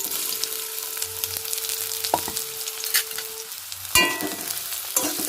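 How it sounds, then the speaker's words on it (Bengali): Onions frying in white oil in a pan on a gas stove give a steady close sizzle and crackle, with a few sharp utensil clinks and scrapes breaking through near the end; no one speaks. "এখন আমি পেঁয়াজগুলোকে ভেজে নিচ্ছি"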